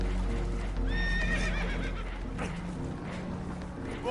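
Spooked horses aboard a damaged, leaking boat in Red Dead Redemption let out a loud, shrill whinny, then further agitated snorts and stamping hooves over rushing water.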